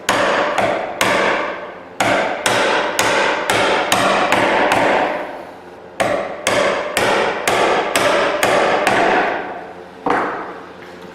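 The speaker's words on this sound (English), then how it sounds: "So I finish them with chisels, and that's what I'm going to do right now." Wooden tenon shoulders are pared by hand with chisels: loud, sharp mallet blows land close by in quick bursts of several strikes, separated by short pauses.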